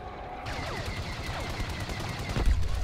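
A gun fires in the Star Wars Battlefront II video game, rapid blaster-like shots with sweeping zaps over the steady din of battle, ending in a heavier low impact.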